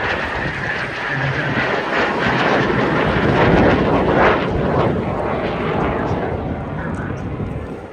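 Airplane at the Bray Air Display in Ireland roaring past as it banks around for another pass, a loud, broad engine rush that swells and slowly fades, with a commentator talking over it.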